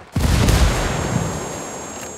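A grenade explosion in the video game Ghost Recon Wildlands: one loud boom that opens with a sharp onset and fades into a rumbling tail over about two seconds.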